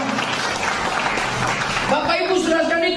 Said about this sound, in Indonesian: Saudara, tepuk tangan buat Tuhan Yesus.